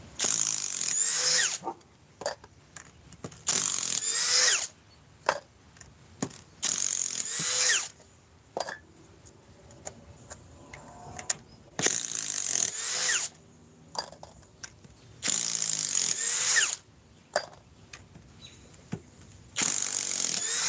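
A Ryobi power tool whirs in repeated short bursts, about seven spaced runs of a second or so each with quieter mechanical clicks and handling noise between them.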